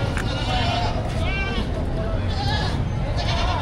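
Goats bleat in short, wavering cries over the steady crowd noise of a busy cattle, goat and carabao market in Padre Garcia, Batangas, with two or three calls rising clearly above the din.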